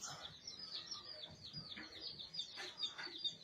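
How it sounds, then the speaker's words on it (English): Birds nesting up in the ceiling of a post office lobby, chirping and clucking in quick irregular bursts, somewhat faint and echoing indoors. "Listen to the birds up here in the ceiling."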